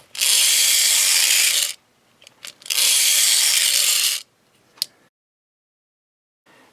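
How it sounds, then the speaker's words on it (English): A toy ray gun mechanism runs roughly in two loud, close bursts of about a second and a half each, grinding and whirring, separated by small clicks and followed by a sharp tap and silence. "I would want to lubricate the mechanism because it sounds sort of rough."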